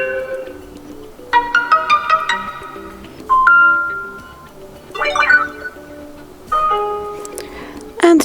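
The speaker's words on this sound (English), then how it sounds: "Click on sound, and here you can pick one from the following options," Voicemail notification tones on an Infinix Hot 9 phone chime one after another, several short melodic ring and ding samples separated by brief pauses, loud and close.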